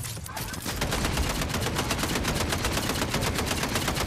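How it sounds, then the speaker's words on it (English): Dense, continuous rapid-fire gunfire from a video game, loud and close with machine-gun bursts running almost unbroken after a brief softer opening. "Nigga, why are you shooting at me?"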